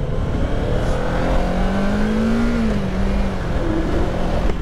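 A motorcycle running on fuel with injector cleaner added rides along a road, its engine droning steadily and rising briefly in pitch as it accelerates, loud and close, with constant road and wind rumble and no talk.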